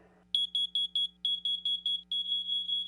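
A carbon monoxide detector sounds a piercing high beeping alarm in a rapid run of short pulses that merge into a longer tone.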